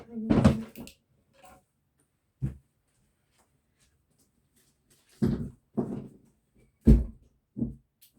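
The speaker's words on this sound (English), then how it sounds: "Let me just go and shut the door." A handful of thuds and knocks from a door being shut come in separate bursts with quiet gaps between them, close by and fairly loud.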